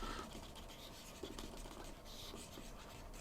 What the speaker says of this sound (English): So we'll just show you how quickly I can erase this.